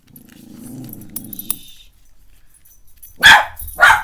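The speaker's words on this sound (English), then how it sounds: "Don't know what he's barking at. Couldn't tell you for toffee, he's just barking." A dog barks twice, sharp and loud near the end, after a stretch of low murmuring sounds and quiet.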